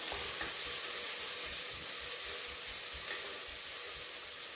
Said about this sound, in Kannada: ಫ್ರೈ ಆಗಬೇಕು, ಕೆಂಪು ಫ್ರೈ ಆಗಬೇಕು. ಫ್ರೈ ಆಗ್ತಾ ಇದೆ